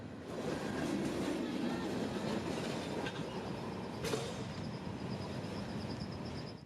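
A long Florida East Coast freight train of about 12,000 feet rolls past on rails near Lenox, Georgia, a steady rumble with clickety-clack of wheels and a brief squeal, heard nearby without speech.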